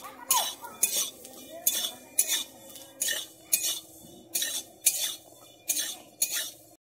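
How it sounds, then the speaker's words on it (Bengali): Garlic and green chillies are stirred in a frying pan, a utensil scraping and clinking against the metal in about ten regular strokes, close and fairly quiet, with no one speaking. "দিয়ে আমি এটাকে একটু ভেজে নিচ্ছি"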